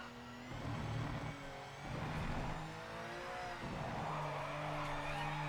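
A race car's tires locking up and skidding in the racing video game Project Motor Racing, with a droning, shifting engine note and squealing tones, moderately quiet and with no talk.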